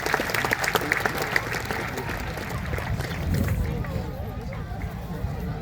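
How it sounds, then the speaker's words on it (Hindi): Sustained crowd applause at an international Buddhist Dhamma conference in Parbhani, a dense steady wash of many hands clapping that runs throughout, fairly loud and close, with faint voices in the hall beneath it. "उसके लिए तालियां बजा दीजिए।"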